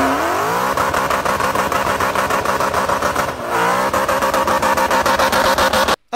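A Gen 2 Coyote V8 car engine revs hard and loud in repeated rising sweeps, a rough pulsing roar that dips briefly mid-way and cuts off abruptly at the end, with no voices.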